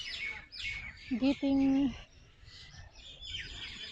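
Birds in a park after rain chirp and call in short bright bursts, with one louder clear call near the middle, while a person talks nearby.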